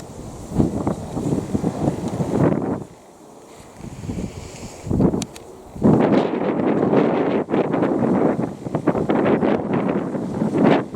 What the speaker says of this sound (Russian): холодный ветер, там может быть -2, может -1, -2, но ветер, конечно, холодный